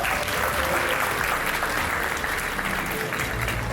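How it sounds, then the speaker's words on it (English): Dense applause from a large audience fills a hall at a property investment event in Dubai, a steady, loud wash of clapping running throughout with no break. "please join me in a round of applause for our head of sales, Mr. Saurabh."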